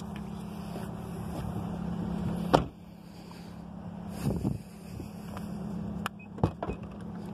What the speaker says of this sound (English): You just touch it, it opens up on its own.